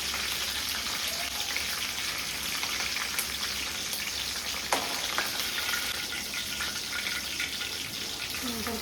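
Cumin, curry leaves and green chili sizzling in hot oil, a dense, continuous crackle with scattered pops, close and steady throughout with no talk.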